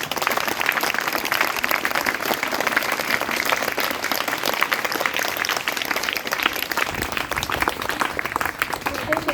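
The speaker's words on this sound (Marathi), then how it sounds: "सगळ्यांसाठी टाळ्या वाजवा." An audience at a school event breaks into sustained, dense applause, many hands clapping together at steady loudness throughout with a brief murmur of voices in the crowd.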